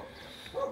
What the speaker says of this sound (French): Ils jappent tout le temps pour rien.